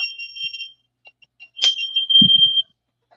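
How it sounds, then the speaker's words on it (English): An electronic alarm with a steady, high-pitched tone that rings and cuts out in short pulses, joined by a sharp louder burst partway through and a low thump, with no speech over it. "let me turn my alarm off"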